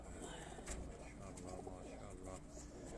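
Pigeons coo in a steady low murmur on a rooftop loft in Punjab, Nowshera Virkan, with a voice speaking faintly now and then over the birds.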